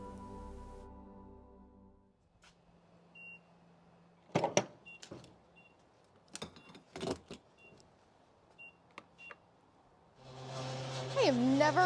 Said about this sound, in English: I have never heard a gas pump make that noise.